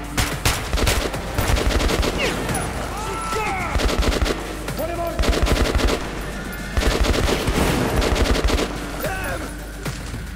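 Rapid, repeated bursts of gunfire from the video game Metro 2033 Redux on Xbox One, loud and close, coming in several clusters with brief pauses between them, with some voice audible underneath.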